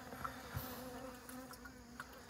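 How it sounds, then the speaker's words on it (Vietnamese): Honeybees swarm around a wild nest, their faint, continuous buzzing droning steadily outdoors, with a few soft bumps and no voices. "Ong ở tận trên đấy."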